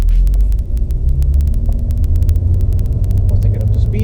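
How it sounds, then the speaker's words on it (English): A manual car pulls away in first gear with a low, steady engine rumble that rises slightly as it moves off, while someone talks throughout. "let go of the clutch, give it a little gas, and we're off"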